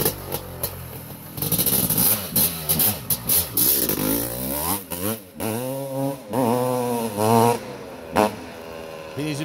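A 1991 Honda CR500R two-stroke motorcycle started for the first time in decades, its engine revving up and down in loud, close bursts of rising and falling pitch, with voices talking over it.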